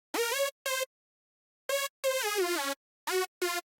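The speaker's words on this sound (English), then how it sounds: "Right here I've got a lead sound" A bright, harmonically rich synth lead plays short staccato notes and a few held ones in a sparse melodic phrase, each note clean and separated by silence, heard alone before any SurferEQ equalizer processing.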